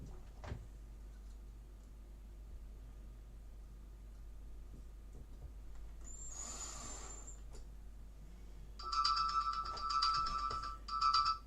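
Alarm set as a reminder, ringing during a TV backlight repair: a faint electronic ringtone of rapid repeated beeps starting near the end, following a brief tone earlier, over low background hum.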